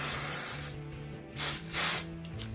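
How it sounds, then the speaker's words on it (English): Hairspray sprayed from an aerosol can onto hair while styling for a rock show: a long steady hiss runs for about a second, then three shorter bursts follow close and clear. "get some hairspray and just only spray this one."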